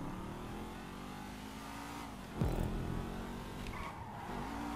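Car accelerating in GTA 5 online, a steady engine drone that drops briefly, then surges with a sharp rev and tire noise before settling into a fainter run.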